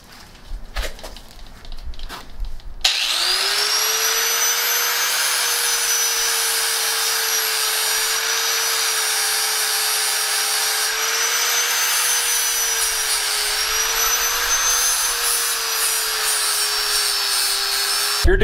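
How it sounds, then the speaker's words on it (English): A flap wheel on a grinder profiles down a front axle during a Jeep YJ build, giving a loud, continuous, high-pitched grinding whine that holds steady for about fifteen seconds after a few short rubbing and handling noises. "we're just going to go ahead and grab a flap wheel and profile that down that much"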